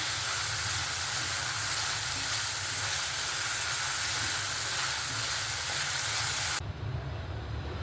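Spices and soaked tamarind fry in hot oil for a cucumber pickle, making a dense, loud, steady sizzle that cuts off sharply near the end, leaving a quieter low hum.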